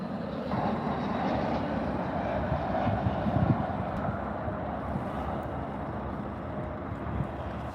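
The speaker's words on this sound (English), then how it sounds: "An American Airlines A320 landing at DFW." An American Airlines Airbus A320 landing at Dallas/Fort Worth airport, heard as a steady, broad roar of jet engine and wind rumble that holds for several seconds, moderately loud and somewhat distant.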